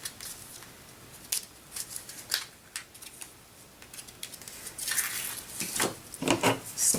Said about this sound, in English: Just cut a small strip.